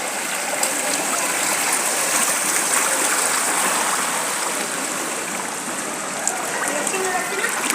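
Flood water after heavy rain rushes through a city street in Dhaka's Banasree–Khilgaon area, a loud continuous gushing wash close by with a few faint knocks.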